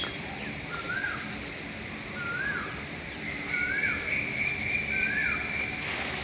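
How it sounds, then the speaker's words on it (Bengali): Birds calling in a jackfruit orchard in spring, repeated rising whistled calls at fairly even intervals over a faint insect and ambient hum, moderately distant. "বৈশাখ মাসের যে পাখিগুলো ডাকতেছে খুব সুন্দর"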